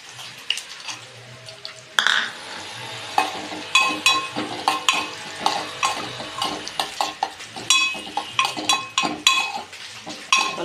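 Cashew nuts frying in ghee in a pan for wheat payasa, close sizzling broken by frequent metallic spoon scrapes and clinks against the pan, growing busier after a sharp start two seconds in.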